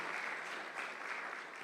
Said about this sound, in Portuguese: O Senhor merece um aplauso?